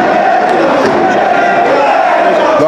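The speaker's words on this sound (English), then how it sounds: "The crowd erupts every time he lands a shot." A boxing crowd at Sonny Upton versus Ivan Duvancic erupts in loud, sustained cheering and shouting that fills the arena, close and constant, with commentary mixed in.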